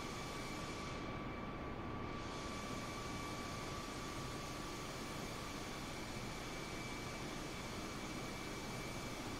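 Airbus airliner landing in Microsoft Flight Simulator on Xbox Series X, a steady loud jet engine roar and rushing air with faint whining tones, continuous and unbroken throughout, no voices.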